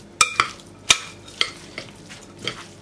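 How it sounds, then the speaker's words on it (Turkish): A spoon scrapes and clinks against a pot of cabbage dish being stirred, in several sharp strokes, irregularly spaced, over a faint background hiss. "Karıştırıyorum."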